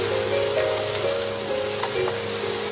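Vegetables coated with turmeric and salt sizzle softly in a frying pan, with a low steady hiss, a faint hum and occasional light clicks of stirring, close and without speech.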